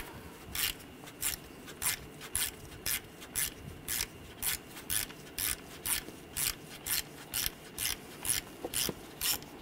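A ratchet with an 8 mm socket backs a bolt out of a camshaft position sensor on a 2013–2019 Ford Escape, giving a steady run of about twenty quiet, evenly spaced clicking strokes with no talk.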